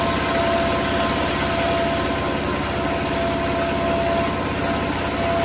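A generator runs on a lower floor, picked up through an ordinary phone microphone as a steady, loud engine drone with a low pulsing rumble and a thin constant whine, unbroken for the whole stretch with no voices.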